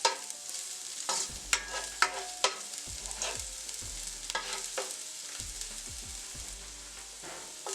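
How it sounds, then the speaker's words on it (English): Chopped garlic frying in a pan for Mexican rice, a steady close sizzle broken by several sharp scrapes and clicks of stirring, with no one talking. "now we're gonna go in with 3 tablespoons of chopped garlic, and we just want to warm the garlic through"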